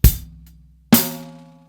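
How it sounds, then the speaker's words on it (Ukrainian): Two drum hits spaced about a second apart, each a kick drum struck together with a hi-hat, ringing out and decaying cleanly. "ми тут одночасно граємо хай-хет і бочку"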